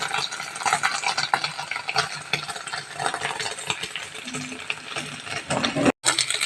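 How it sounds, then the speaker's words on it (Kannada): Paneer masala gravy ingredients being stirred and roasted in oil in a pan: continuous scraping and stirring with soft sizzling, close and moderately loud, with a brief gap near the end. "ನೋಡಿ ಫ್ರೆಂಡ್ಸ್, ಯಾವ ರೀತಿಯಾಗಿ ಹುರ್ತಾ ಇದ್ದೀನಿ ಅಂತ."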